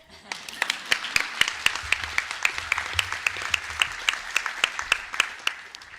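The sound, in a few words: audience applause at a candidate forum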